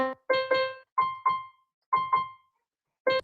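Synth keyboard notes in a higher octave after an octave shift, struck in short pairs with pauses between them, clean tones with no talking.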